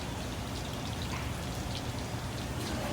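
Pork cutlets pan fry in hot oil with a dense, continuous crackling sizzle that holds at an even level throughout, with no talk.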